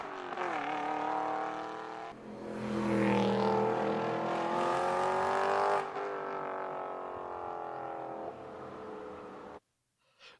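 A car revving with no exhaust fitted, straight-piped: loud, raspy engine notes rising and falling through several rev sweeps and gear changes, close by, cutting off abruptly at the end.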